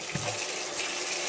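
Tap water runs steadily into a kitchen sink as hands are washed after handling raw meat, a continuous close splashing gush with no speech.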